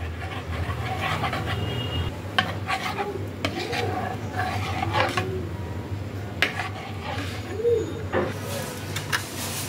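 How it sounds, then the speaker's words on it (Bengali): A spoon scrapes and rubs steadily against a pan while paneer kali mirch ingredients are stirred and mixed, with a few sharper clinks of metal scattered through the close, continuous scraping. "এবার সবকিছুকে একসাথে ভালো করে মিশিয়ে নিতে হবে।"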